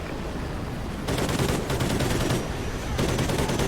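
Sustained automatic gunfire from a Call of Duty: Ghosts firefight, dense rattling bursts that swell louder in two stretches over a constant background of battle noise.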